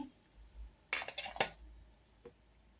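Crisp fried channa dal vadas being moved onto a plate, giving a short cluster of metal-on-plate clinks and scrapes near the middle, clear and close, with quiet kitchen background before and after and no talking.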